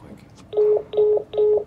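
Three short telephone keypad tones, evenly spaced and fairly loud, from a phone in the video game SOMA, over a faint low background.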